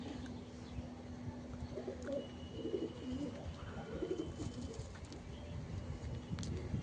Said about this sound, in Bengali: ব্লু পট্টির পায়রা।